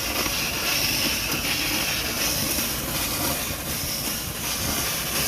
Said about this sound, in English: And you can see the engine starting to run.